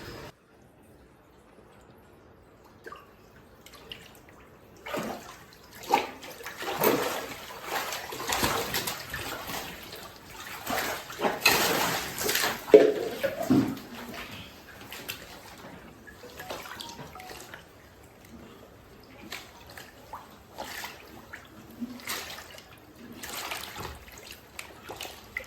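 Settled aquarium water poured and splashed into a container for moving a large catfish, heard as intermittent trickling and gushing pours up close, loudest in the middle and quieter toward the end.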